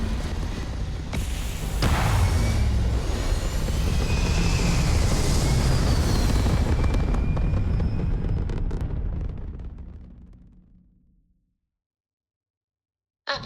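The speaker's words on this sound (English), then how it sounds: "Can't hear you over the engine boom." A spaceship engine roars in the space game Starfield, a loud sustained rumbling boom with a sharp onset that swells, holds, then fades out to silence, with no voices.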